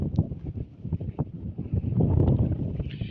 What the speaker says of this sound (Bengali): শুনতে পাচ্ছেন বাতাসের যে একটা মানে একটা আওয়াজ, শা শা করে একটা আওয়াজ হচ্ছে